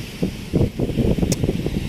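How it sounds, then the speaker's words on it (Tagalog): Strong wind gusts across Manila's Dolomite Beach on a Sunday, buffeting the microphone with an uneven, rumbling roar that swells and dips in bursts close up. "Malakas ang hangin dito ngayon"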